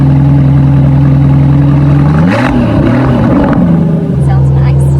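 A Brabus Bodo coach-built car with a 1,000 HP engine idles with a steady deep drone, rising in a brief rev before settling back, loud and close with a voice speaking over it.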